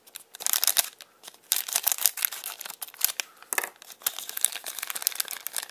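Crinkly plastic wrapper of a Dragon Ball Heroes card pack being torn and crumpled open, a string of close, sharp rustles and crackles with no talking.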